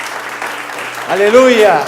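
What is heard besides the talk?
church congregation applauding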